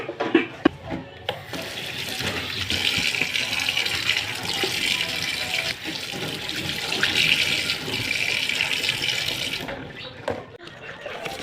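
Running tap water splashes steadily into a kitchen sink while dishes are washed at home, a continuous close hiss lasting about ten seconds before cutting off near the end.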